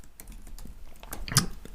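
Short burst of typing on a computer keyboard, several light irregular key clicks close by, quiet, with no talking.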